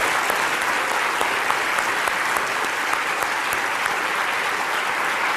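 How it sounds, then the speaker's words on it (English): An audience claps steadily at a Christmas science lecture, a dense, even wash of many hands sustained at a consistent loudness from start to finish with no talking over it. "give them a round of applause"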